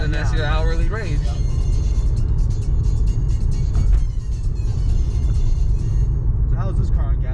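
A car drives along the road during an Uber ride, its engine and tyre rumble steady and loud throughout, heard from inside the cabin while people talk over it.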